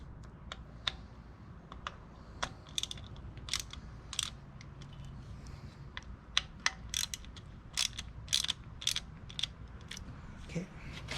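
Bolts being tightened on a power window motor of a 1989 Toyota Corolla: scattered sharp ratchet clicks and metallic ticks come in irregular bursts over a low steady background hum, close and fairly quiet.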